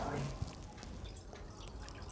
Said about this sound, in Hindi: अब इसमें मैं डाल देती हूँ पानी।